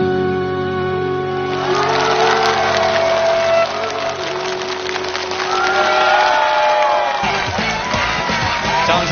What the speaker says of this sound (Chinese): 掌声送给奥林组合